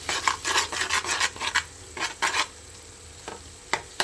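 Onions and tomatoes fry with a steady sizzle in a pan for a mushroom curry, while a spoon scrapes and stirs in bursts of rasping strokes, louder in the first half and sparser toward the end; nobody speaks.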